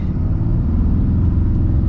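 A 2024 Ram HD Limited diesel pickup accelerating, heard from inside as a steady, loud low engine rumble and drone with no talk over it.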